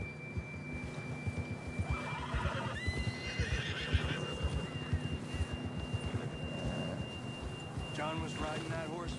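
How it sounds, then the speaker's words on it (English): Horses in deep snow in Red Dead Redemption 2 neigh and whinny several times, with rhythmic hoof thuds and steady background noise throughout. "Horses are struggling."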